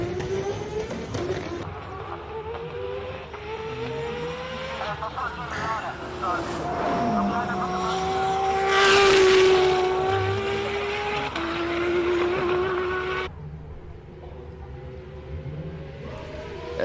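A race car engine at the Simola Hill Climb rises and falls as it climbs, revving harder toward the middle and fading, with commentators talking over it throughout.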